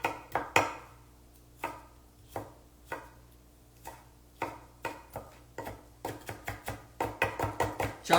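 A knife chops tomatoes into small pieces on a cutting board, a series of crisp close taps, irregular at first and then speeding into a quick rhythm toward the end.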